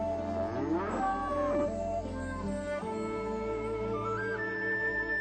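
Water buffalo on a farm, a long, low, droning moo with wavering pitch that swells early, then drags on steadily and loud throughout, with no voices present.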